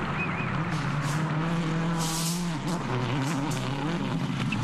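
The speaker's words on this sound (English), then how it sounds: "Petter is sliding the Impreza through the tight confines at this stage" A Subaru Impreza rally car slides through a tight super special stage at the Acropolis Rally, its engine droning loudly and steadily with brief tire squeal as it rounds the corners.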